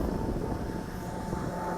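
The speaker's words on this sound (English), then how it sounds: "Now I see an airplane up there coming into" A distant airplane passes high overhead on approach to Erie International Airport, a steady broadband engine drone filling the background, heard alongside the hum of a small MJX Bugs 20 camera drone hovering nearby.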